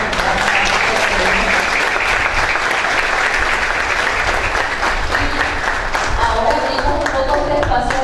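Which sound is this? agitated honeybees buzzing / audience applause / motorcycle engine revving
audience applause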